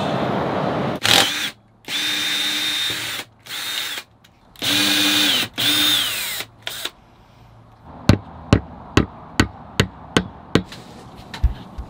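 Power tool removing a bolt from a post, several loud bursts of motor whirring separated by pauses, followed by a rapid series of sharp clicks or knocks, close and loud.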